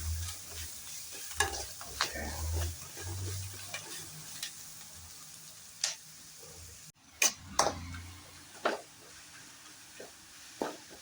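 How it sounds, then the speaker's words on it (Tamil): Curry leaves sizzle in a pan for beef varuval while a spoon repeatedly scrapes and clicks against it, a quiet crackling bed punctuated by irregular sharp stirring knocks. "கருவேப்பிலை நல்லா வறுத்துக்கலாம்."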